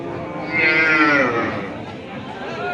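Cattle lowing at a busy livestock market for cows and calves in Bangladesh, one long, loud moo rising then fading, over a murmur of market chatter.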